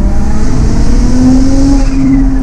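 A single-turbo BMW 335i accelerates hard, its engine droning loud and close with a rising tone that climbs steadily over the continuous roar.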